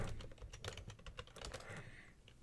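Rapid clicking of keys on a computer keyboard, a quick irregular burst of close, fairly quiet keystrokes with no talking.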